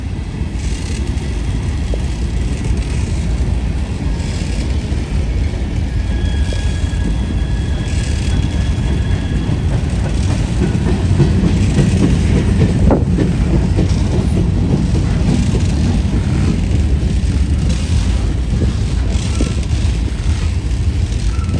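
A CSX freight train rolls past up close, a loud continuous rumble of rail cars with rhythmic wheel clatter throughout.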